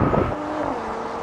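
A Volvo S60 Polestar or rival BMW M340i, Audi S4 or AMG E53 accelerating hard in a drag race, a loud steady engine roar with no gaps as the automatic gearbox shifts up.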